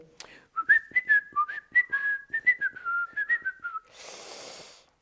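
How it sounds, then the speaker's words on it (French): A man whistles a short, wavering tune up close, followed by a soft burst of breathy noise at the end. "pour se donner du courage, il sifflote"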